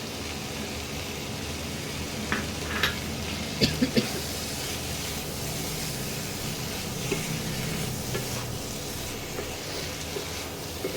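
Poppy seed paste sizzles gently in a pan with prawns, a soft steady hiss broken by a few light clinks and stirring scrapes.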